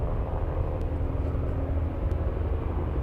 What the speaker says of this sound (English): hearing a chopper. Where's the helicopter at?